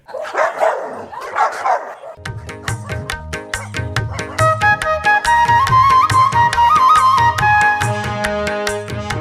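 A few rough stray dog barks sound in quick succession, then a bright musical jingle with a steady beat takes over for the rest, on a radio news bulletin.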